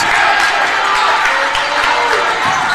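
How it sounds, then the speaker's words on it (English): A crowd cheers and shouts at a high school basketball playoff game between Breckenridge and New York Mills in a gym, a dense, loud, continuous roar of voices with scattered applause that holds steady throughout. "They're cheering on their classmates as the scoreboard goes black."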